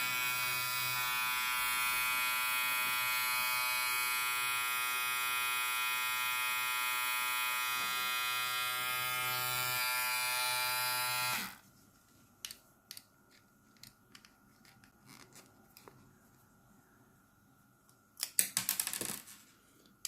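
A Daling DL 1097 electric hair clipper trimmer runs with a steady, loud buzzing whine for about eleven seconds, then switches off, leaving faint scattered clicks and handling knocks.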